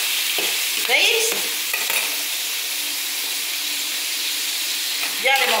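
Zamorreta sauce sizzling and reducing in a paella pan for a fish and seafood paella, a loud continuous hiss with spoon scrapes near the start and end.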